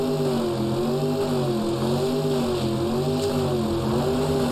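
Helicopter flying in the Saints Row video game, a steady droning rotor and engine hum with stable tonal bands, held at constant loudness throughout and no voices.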